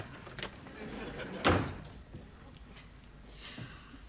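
A door shuts at home with a single muffled thud, fairly near but soft, amid quiet room tone and a few faint knocks before and after.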